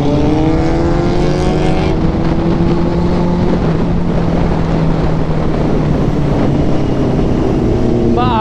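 A Kawasaki Z900 superbike with a full-system exhaust roars loud and continuous while riding through the Garo Hills in Meghalaya. Its engine pitch rises and falls through the gears under heavy wind buffeting, with no talking.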